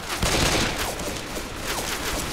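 Dense, continuous gunfire from the video game Left 4 Dead rattles throughout, a rapid overlapping volley set in a cemetery, loud and with no speech.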